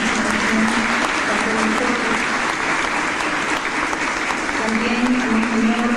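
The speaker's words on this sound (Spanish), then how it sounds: "Apostólico Monseñor Fortunatus, vamos a pedirle un aplauso para él por su participación." An audience at a closing session of a church symposium gives sustained applause, a steady dense wash of clapping throughout, loud and close.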